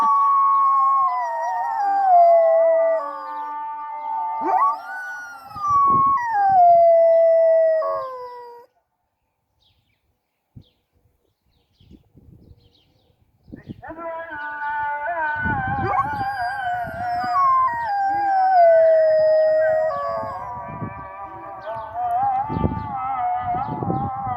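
Dogs howl in long, sliding, wavering tones, with several voices overlapping. The howling is loud and close and comes in two long bouts separated by a brief near-silent gap, with a light breeze outdoors.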